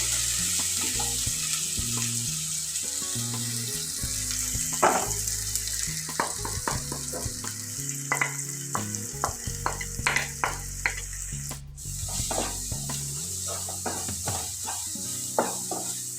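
Onion and tomato frying with masala powder for a chickpea curry, stirred in the pan, with a continuous sizzle broken by repeated scraping strokes and clinks of the spoon, close and fairly loud.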